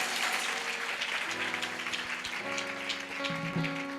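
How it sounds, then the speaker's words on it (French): A congregation claps in a church during a Sunday worship service, steady dense applause filling the room throughout, with sustained tones beneath it. "Acclame bien Jésus"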